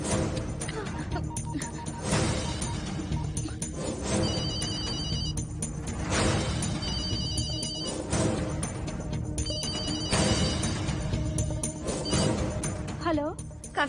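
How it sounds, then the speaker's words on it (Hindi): A phone ringtone rings repeatedly in a Hindi horror film scene, the repeated electronic tone bursts sitting over a dense musical score. "फोन ये लो।"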